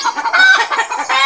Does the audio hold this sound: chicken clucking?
yes